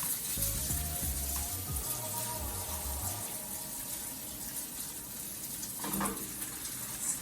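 Tofu sizzles in a pan while it is stirred, giving a steady, fairly loud crackling hiss with a few scraping bumps from the stirring early on.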